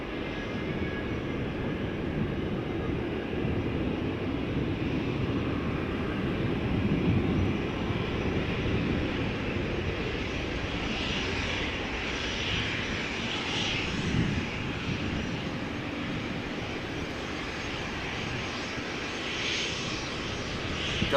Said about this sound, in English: Got an Airbus A319 that has arrived from London Luton.